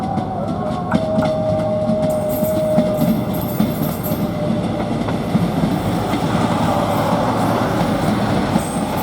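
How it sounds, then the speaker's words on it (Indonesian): Prambanan Express passenger train crossing the Kewek bridge over Kali Code in Yogyakarta, Indonesia: a steady loud rumble of rolling railcars with rhythmic wheel clatter, a brief metallic squeal early on, continuing throughout without speech. "Kereta api Prambanan Ekspres."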